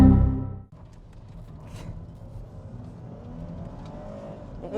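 A Japanese-market V6 executive sedan of about 320 horsepower accelerating hard, heard from inside the car. A loud low burst of engine noise opens and then cuts off sharply, and a steady engine drone and road rumble follow.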